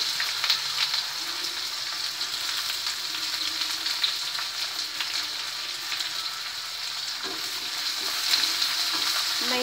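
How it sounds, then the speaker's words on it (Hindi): Chopped onion fries in hot oil with bay leaf and browned cumin for a prawn dish, giving a steady close sizzle with occasional scraping stirs and no talking. "अब उसमें मैं ये कटा हुआ प्याज डालूंगी।"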